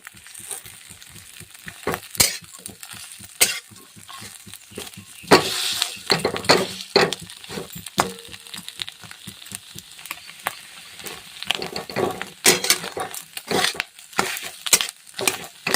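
Ghee residue (beri) being stirred in a pan on a gas stove, a close, irregular run of scraping and clinking stirs over a faint, steady sizzle of frying.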